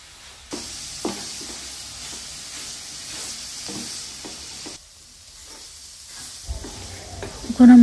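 Papaya cooks with caramel in a pan, a soft sizzle under repeated stirring scrapes and taps, dropping quieter midway before a louder clatter and squeal at the close.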